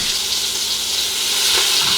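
A pot roast browning in hot oil inside a pressure cooker, giving a loud, continuous close sizzle that swells slightly toward the end, with no talking.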